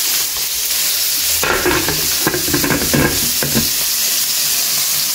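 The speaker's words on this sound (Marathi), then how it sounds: "दाळीक बरो तडका दिला हांवें" A tadka tempering hits dal with a loud, continuous sizzle and hiss, bursting into a sharper crackling surge about midway before settling back to a steady fry, with no voices.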